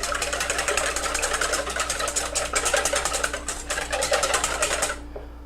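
Egg yolks and milk beaten lightly in a bowl for a fried catfish batter: a rapid, steady clatter of whisking, close and continuous, that stops just before the end.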